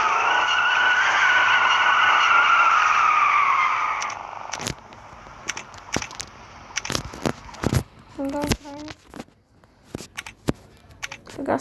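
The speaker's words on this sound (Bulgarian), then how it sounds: "Приятели, отново до 100 за колко секунди" A car with an 8-litre engine accelerates hard from a standstill toward 100 km/h, its engine note climbing steadily and loudly for about four seconds, then giving way to scattered clicks, knocks and faint background noise.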